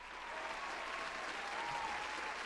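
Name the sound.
applause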